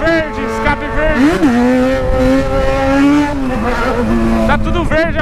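A Yamaha XJ6 motorcycle with an aftermarket exhaust revs close by. Its loud engine note rises and falls in pitch through several throttle blips.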